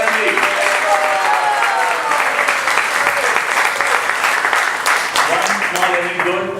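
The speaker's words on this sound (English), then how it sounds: "Big round of applause for Dilip Bhai and his family." Audience at a temple opening lecture gives a sustained round of applause for a donor family, steady dense clapping filling the room throughout, with some voices underneath.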